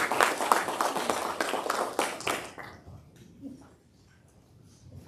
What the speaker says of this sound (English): Give your king a hand clap of praise on the way down.